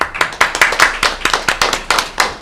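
Applause from attendees at a community college board of trustees meeting: a small group clapping in a clear, brisk rhythm, close and fairly loud, with no talking over it.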